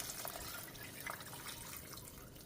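More water pours into a cooking pot holding chopped cabbage, a soft continuous trickle and splash with no talking.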